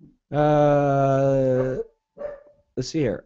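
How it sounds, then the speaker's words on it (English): A dog barks in a short series: one long drawn-out bark or howl, then two shorter yips, close and loud, as someone speaks briefly. "I don't know if you can hear my dog barking"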